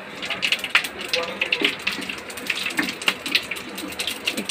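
Whole cardamom, cloves, cinnamon, cumin and bay leaf sizzle and crackle in hot oil for a fish curry, with a steady close frying hiss and scattered sharp pops.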